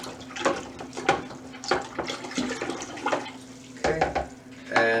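Nutrient solution being stirred into water while preparing a feeding mix for rooting tree cuttings, with repeated splashy swishes and sloshing bursts at an uneven rhythm, close and moderately loud.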